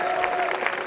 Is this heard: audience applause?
yes